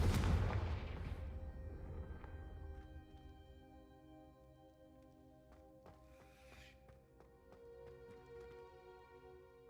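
A Confringo fire spell bursts in a video game with a loud, booming blast at the start that rolls off into a long, fading rumble under sustained tonal game music, with a few faint pops later.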